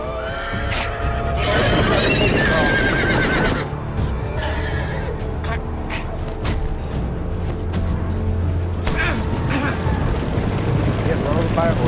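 A horse whinnies loudly in a long, shrill neigh in a Game of Thrones video game, followed by hoofbeats and clattering action noise with a voice speaking.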